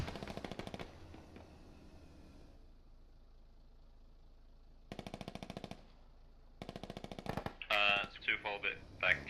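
Automatic machine gun fire in the military shooter game Squad: several rapid rattling bursts separated by pauses, ending in louder, heavier shots over a low engine rumble.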